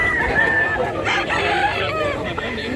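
A two-year-old gamecock called Golden Boy crows at a farm in Mantalungon, Cebu, a loud, drawn-out crow close by, with other fowl clucking and calling throughout.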